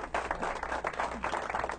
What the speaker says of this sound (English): Round of applause for that man